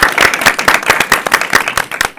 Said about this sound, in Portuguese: quero uma salva de palmas para ele aí